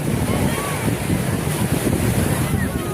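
Waves washing onto a beach shore with steady wind buffeting the microphone, a continuous broadband rush of surf throughout with no distinct breaks.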